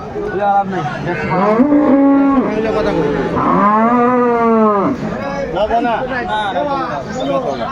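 Dairy cows and calves of improved breeds low in long, loud, drawn-out moos one after another at the Aftabganj cattle market in Dinajpur, close by, with crowd chatter and voices underneath.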